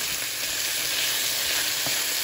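Bistec a la mexicana with tomato, onion, chili and chopped garlic fries in a pan, a loud, close, unbroken sizzle with a faint scrape near the end.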